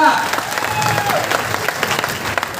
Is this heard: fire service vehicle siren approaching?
no